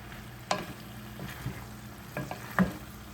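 Squash and zucchini frying in a pan on a stove turned to medium low produce a soft, low sizzle, broken by a few scattered clacks and stirring knocks.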